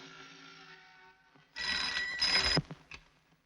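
A telephone bell rings in a Hindi film scene from 1977, a couple of loud bursts standing out clearly over a quiet room background, with no voices over the ringing.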